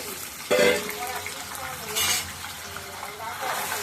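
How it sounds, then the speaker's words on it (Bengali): Fish head frying in oil with black cumin, a steady soft sizzle with a few brief clinks and stirring scrapes, while a voice talks faintly nearby. "মাথার সাথে ছেড়ে দিলাম, তো মাথার সাথে একই সাথে ভাজা হয়ে যাবে"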